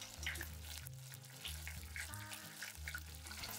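Tofu pieces deep-frying in hot oil, cooked in batches, with a steady bubbling sizzle that holds at an even level throughout, close by and with no one talking.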